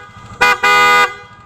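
Two loud blasts from a PIAA dual-tone horn on a Yamaha NMAX scooter close by, a short toot followed by a longer, sustained honk with a bright, buzzy tone.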